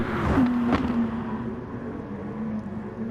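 A Ferrari race car engine screams in a brief high-revving burst at close range, then eases to a lower hum as it pulls away.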